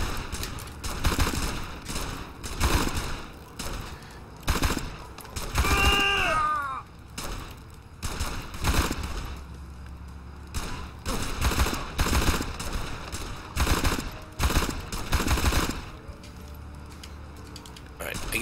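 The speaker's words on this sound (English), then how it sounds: "now I have a machine gun" Machine gun fire in the shooter video game Blues and Bullets, repeated bursts of sharp shots in rapid clusters, with someone talking over parts of the gameplay.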